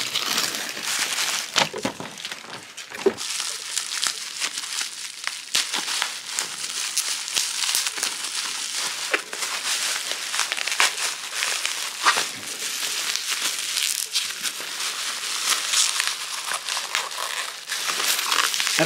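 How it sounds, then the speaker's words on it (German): Schwarzbier black beer bottle being unwrapped, with continuous close crinkling and crackling of wrapping material and scattered sharper rustles throughout, no talking. "Ich werde erstmal dieses Schwarzbier hier von auspacken."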